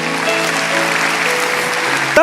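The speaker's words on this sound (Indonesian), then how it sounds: "kasih tepuk tangan untuk Tuhan Yesus." A church congregation applauds in a steady dense wash of clapping, with sustained musical tones underneath and a voice rising at the end.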